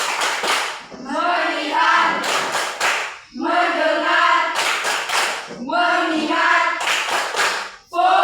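A standing group of students performs a rhythmic focus clap, with bursts of clapping alternating with chanted words in steady, repeated patterns, loud and close.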